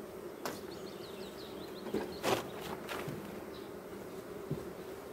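Honeybees buzz around a hive during a strong May nectar flow, a soft steady hum with individual bees zipping close by now and then, plus a few faint knocks.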